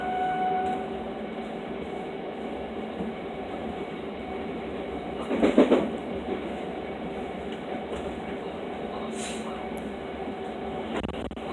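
Inside a Southern passenger train heading toward East Croydon, a continuous rolling rumble and hum fills the cabin, with a brief louder rattling burst midway and faint clicks, no voices.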